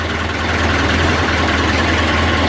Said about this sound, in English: We got it starting. So it was the battery. As you can hear the engine.